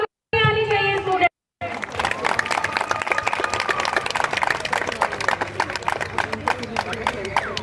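Students applauding race winners at a college annual sports festival, a steady crowd clapping that rises after a brief pause and continues under a voice on a loudspeaker.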